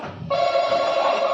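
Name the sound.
telephone ringing sound played in a guessing game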